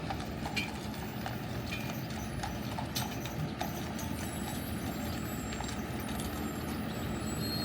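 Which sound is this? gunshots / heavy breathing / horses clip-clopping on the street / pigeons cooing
horses clip-clopping on the street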